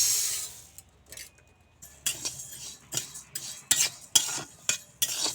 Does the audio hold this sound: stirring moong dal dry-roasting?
yes